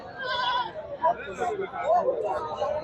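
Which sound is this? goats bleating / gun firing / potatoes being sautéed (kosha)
goats bleating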